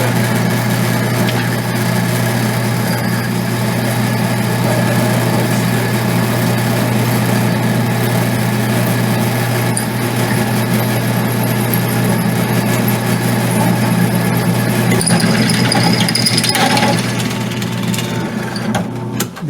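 A sharp drill bit grinds steadily through 1-inch mild steel plate, a loud sustained machine drone with a constant low hum and gritty mechanical texture.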